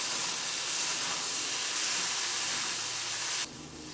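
Capsicum cooking in a covered pan over medium flame, giving a loud, even steamy hiss that holds steady and drops in level near the end, with no voices.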